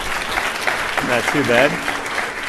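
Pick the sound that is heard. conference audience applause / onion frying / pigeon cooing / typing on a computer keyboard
conference audience applause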